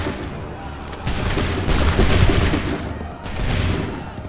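In Assassin's Creed III Remastered, during a battle at Lexington and Concord, massed musket fire erupts in several ragged crackling volleys, loud and close, with booming reports rolling over one another.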